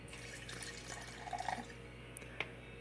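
Gin pours into a glass in a quiet room: a faint, brief trickle and a few soft drips near the middle, with a small click toward the end and no speech.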